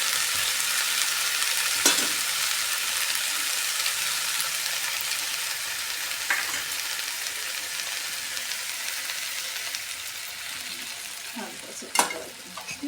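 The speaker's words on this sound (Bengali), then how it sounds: "এবার আমি পোস্ত বাটাটা দিয়ে ভেজে দেবো" Poppy seed paste frying in a pan with drumstick flowers gives a steady close sizzle, with a few sharp stirring scrapes and knocks against the pan.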